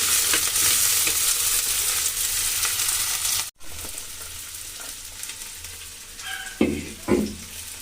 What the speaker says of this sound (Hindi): तो प्याज हमारा फ्राई हो गया है